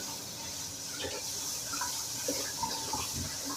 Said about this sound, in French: Je vais bien les rincer.